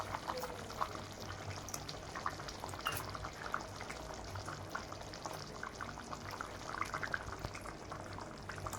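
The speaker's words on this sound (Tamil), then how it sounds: "மீன் குழம்பு நல்லா கொதிக்குது." Fish curry with ginger and fish pieces simmers in a pot, a soft continuous bubbling and gentle popping, faint and steady throughout.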